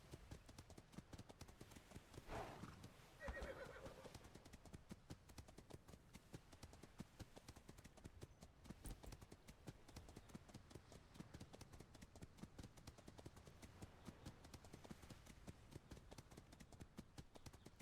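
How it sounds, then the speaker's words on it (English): Horse hooves clip-clop steadily in a video game, a continuous rapid rhythm of faint, even hoofbeats running throughout with a brief brighter swell early on and no talking. "I need a faster horse, man."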